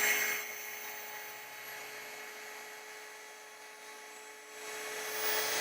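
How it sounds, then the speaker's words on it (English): A rotary polisher spins at 1800 RPM on a car hood, giving a steady high-pitched whine that stays even and close throughout, with a slight swell at the start and end. "I'm going to turn my machine on and start polishing"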